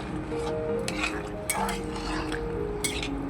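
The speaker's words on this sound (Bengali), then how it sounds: "এবার আমি একটু ভালো করে নেড়ে মিশিয়ে দেবো।" Ash gourd and shrimp curry being stirred and mixed in a pan, with steady scraping and soft clinks of a spoon against the metal over a low background hum, close and moderately quiet with no talk.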